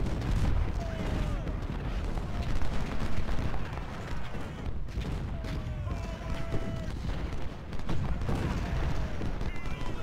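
Siege artillery booms in a Civil War battle in the strategy game Ultimate General: Civil War, at the Georgia Railroad engagement. The reports are dense and continuous, layered with rumbling gunfire across the whole stretch, and a voice talks faintly underneath.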